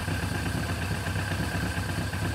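A Suzuki GS750 motorcycle engine idles steadily with a continuous, even mechanical hum and faint clatter, close and alone, without revving.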